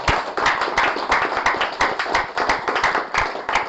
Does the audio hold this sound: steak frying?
no